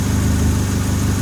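A turbocharged Mazda Miata engine idles in a garage with no exhaust fitted, giving a loud, steady, low rumbling drone with an even pulsing throb throughout.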